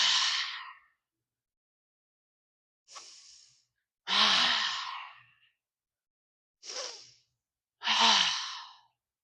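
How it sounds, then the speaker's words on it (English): During a yoga back stretch, three slow deep breaths are drawn and released, soft airy inhales alternating with louder sighing exhales, close and alone with silent gaps between them. "We'll do 3 deep breaths at your own count."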